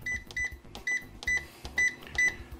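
An air fryer being set to 380 degrees gives a series of about seven short, clear electronic beeps in an uneven rhythm, each crisp and close, with faint handling noise between them.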